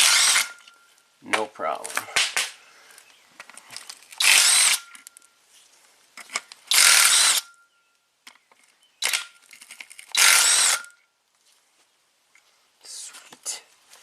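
Hand tools work on bolts on the engine of a 1991 Audi 200 Quattro during a timing belt, water pump and A/C compressor job. Harsh bursts of tool noise come in several separate spurts, with brief whispered speech between them.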